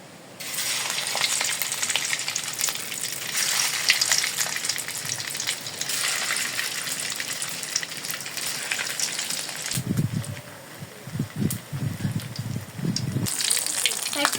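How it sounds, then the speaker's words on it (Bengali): Oil sizzles loudly and continuously as soybean dumplings deep fry, a dense steady hiss up close, with a brief stretch of low voice or thumps partway through. "তেল গরম হয়ে গেছে এখন মুঠেগুলো ভেজে নিব"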